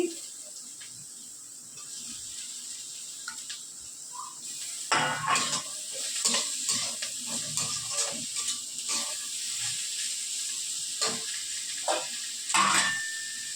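Chopped onion hits hot oil in a pan while chowmein is being cooked, making a continuous sizzle under repeated scraping and clattering from stirring, with a few sharp bursts.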